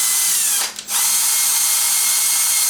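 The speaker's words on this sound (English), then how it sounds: "Got a drill, and what I'll do is just run that in like so." A power drill whirs steadily into a Ludwig drum part during chrome restoration and repair, a loud close continuous whine with one short dip where the motor eases off.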